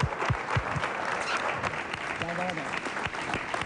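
Studio audience applause on a TV talk show fills the whole stretch, steady dense clapping from a crowd, with a voice speaking briefly over it.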